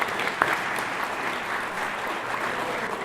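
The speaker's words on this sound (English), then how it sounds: "let's give them a round of applause." A crowd at a Chicago gathering of Holocaust survivors claps steadily for a few seconds, a dense, even patter of many hands in a large room without voices over it.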